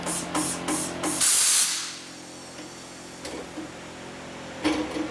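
A short burst of air hisses sharply out of an overinflated tire on a tire changer, let down from about 51 PSI, surrounded by faint clicks and clatter before and after.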